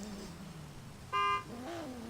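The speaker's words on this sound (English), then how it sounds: "All right, there's the horn." A drag racer's car horn gives one loud sustained honk of about a third of a second, standing out sharply over a low background engine idle at a qualifying event.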